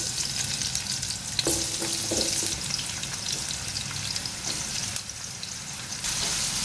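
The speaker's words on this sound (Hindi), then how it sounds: "ऑयल में इसको फ्राई करेंगे, लाइट गोल्डन कलर हो जाएगा" Three medium sliced onions fry in a pan of hot oil, giving a loud, continuous close-up sizzle and crackle with a few brief stirring scrapes and no talk.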